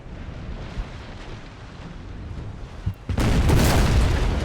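Cannon broadside fire in a Napoleon Total War naval battle: a low rumble of distant guns, then a sudden loud, sustained roar of massed cannon erupting close by for the last second and a half, with no talk.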